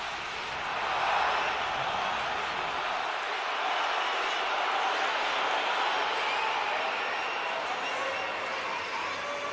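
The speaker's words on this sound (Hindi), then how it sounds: "तालियों की गड़गड़ाहट के साथ, तालियों की गूंज के साथ प्रधानमंत्री का जोरदार स्वागत ऑस्ट्रेलिया के मेलबर्न में होता हुआ नजर आ रहा है।" A large crowd in Melbourne applauds to welcome Prime Minister Modi, a dense wash of clapping and cheering that carries on steadily throughout.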